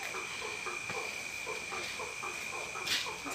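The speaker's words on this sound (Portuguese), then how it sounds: "lá fora, o sapo está só gritando, né?" Frogs croaking and calling outdoors near a reservoir at night, a steady chorus of repeated pulsed calls over a constant high insect-like trill, moderately distant with one louder burst near the end.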